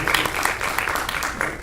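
Clapping from an audience at an academic meeting on museums and curatorship, a brief burst of moderate applause with sharp individual claps audible.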